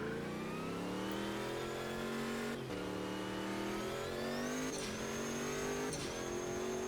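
Sigma P1 race car engine at Kyalami in Automobilista 2, a loud continuous high-pitched howl revving up through the gears with sharp shift interruptions, steady and close throughout with no talking.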